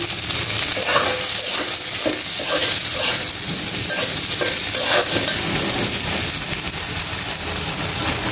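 Ridge gourd, potato, eggplant and slit green chillies stirred and fried in a pan, a steady loud sizzle with rhythmic scraping strokes of the spatula throughout.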